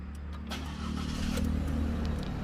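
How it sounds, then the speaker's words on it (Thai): A 2020 Isuzu D-Max pickup engine cranks and catches, settling into a steady, loud idle rumble close by, with no one talking. "ทดสอบสตาร์ทรถนะครับ"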